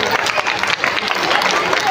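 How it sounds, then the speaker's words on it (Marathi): An audience claps for the students at a school annual gathering and talent show in Maharashtra, a dense, continuous patter of many hands filling the hall at steady loudness. "एकदा त्या विद्यार्थ्यांसाठी जोरदार टाळ्या वाजवायच्या"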